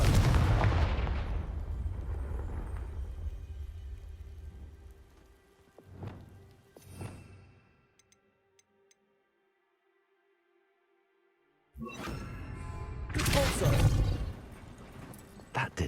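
A Confringo blasting spell in Hogwarts Legacy sets off a loud, rumbling explosion that decays over a few seconds. Smaller impacts follow, then a near-silent gap before another heavy burst.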